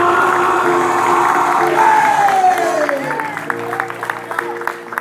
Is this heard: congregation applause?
yes